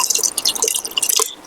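Water splashes into a pani puri ragda mixture with chopped onion and coriander, a quick close burst of light drips and trickles that stops after a second and a half.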